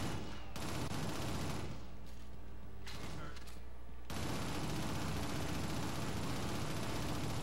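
Rapid bursts of gunfire in a shooter video game, loud and sustained with a short lull before the barrage resumes, with faint voices in the background.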